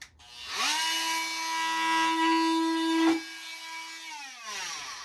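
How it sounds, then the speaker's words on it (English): A power tool cuts a notch in wood during a vintage sailboat refit, a loud steady whine holding for several seconds, briefly dipping and dropping near the end, then trailing off, with no talking. "So we'll just cut this notch out"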